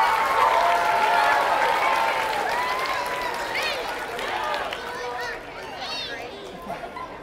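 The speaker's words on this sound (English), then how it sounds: "Let's give first grade a round of applause." Applause for first graders at a school product fair, with the clapping crowd close and loud at first, thinning out while children's excited chatter and voices carry over it.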